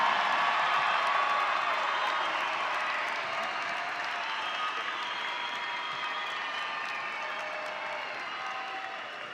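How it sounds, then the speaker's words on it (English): Big round of applause and light cheering for the graduating class of 2024 at the West Mesa High School graduation ceremony, a large crowd clapping in a dense, steady roar that slowly fades over about nine seconds. "One more time, a big round of applause for the entire graduating class of"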